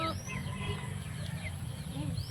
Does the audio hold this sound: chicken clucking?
yes